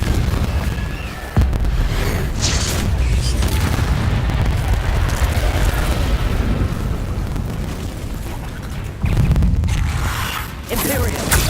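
Confringo fire spell blasts in Hogwarts Legacy, a roaring explosive burst with rumbling debris that fills the whole stretch, with a second heavy boom near the end.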